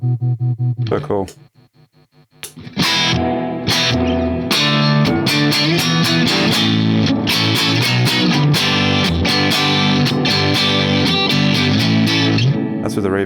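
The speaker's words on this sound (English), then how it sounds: "That's with the reverb on." An electric guitar runs through a Lance Amplification amp with reverb switched on, one chord decaying into a short lull, followed by loud dense driven strumming with a washy tail.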